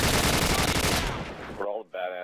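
A sniper rifle quick-scope shot in Call of Duty 4 bursts out loud at the start, with a long decaying tail of gunfire and battle noise, then short in-game voice fragments near the end.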